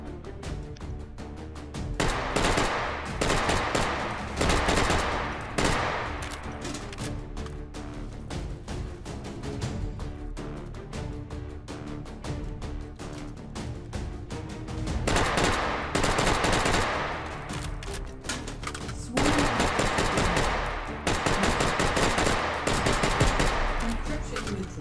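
A submachine gun in the VR shooter H3VR fires repeated rapid bursts, loud and close, separated by short pauses over about twenty-five seconds, with a voice speaking between volleys.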